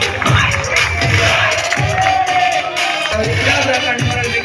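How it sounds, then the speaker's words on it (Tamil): A crowd at a college farewell event claps and cheers, loud and continuous, with bursts of applause and a few shouts rising over the din. "கைத்தட்டலாம் ஒரு ஓப்போடு போடுறாங்க நம்மளுக்கு."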